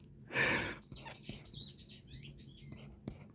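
Birds outside a fifth-floor apartment window trill in a quick run of thin, high chirps, faint and slightly distant, after a brief soft breathy sound.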